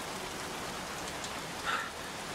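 Steady rain hisses throughout a scene in the video game Heavy Rain Remastered, an even, soft wash of falling water with a brief swell near the end.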